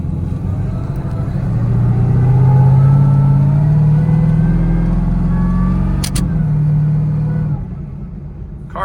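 A tuned car engine runs loud and close, rising in a long rev then holding steady before dropping back to a lower idle, a brief sharp click near the end.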